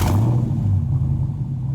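A 2021 Dodge Challenger Scat Pack 392 with an aftermarket, non-stock exhaust gives a close, loud, deep engine rumble that holds steady for a moment with slight surges.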